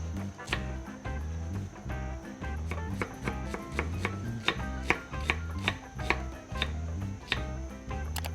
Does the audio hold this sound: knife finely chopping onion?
yes